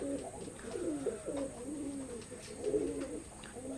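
Oman bloodline Teddy pigeons cooing close by in repeated throaty, rolling phrases, softer in the middle and swelling again toward the end, with no talking.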